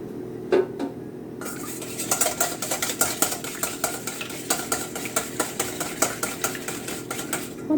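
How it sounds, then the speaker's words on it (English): Rapid whisking of eggs in a bowl for a moist zucchini bread batter, a steady run of light utensil clicks and scraping against the bowl close up, with no voice. "now we are going to beat our eggs"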